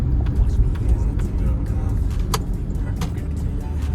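A tuned 2014 Porsche Cayenne V6 diesel engine rumbles low and steady at close range, with a few faint clicks and ticks over the drone.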